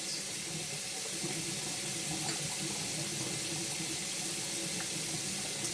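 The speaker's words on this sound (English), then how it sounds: "So what I'm going to do is rinse them." Broccoli being rinsed under a running kitchen tap, a continuous steady rush of water splashing into a sink, close and even, with a few faint clinks.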